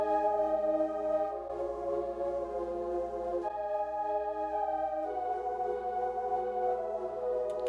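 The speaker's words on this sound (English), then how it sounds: "this pad that is kind of soaring over the top of that hook" A high synth pad soars over a song's hook in a Logic Pro X production, holding bright sustained chords that shift a few times above a softly pulsing low bass line.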